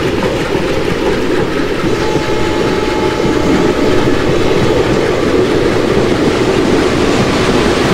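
An Indian passenger train between Bhusaval and Katni in the Open Rails simulator rolls along a curve with a dense, continuous rumble and faint wheel clatter, loud and steady throughout, no voices.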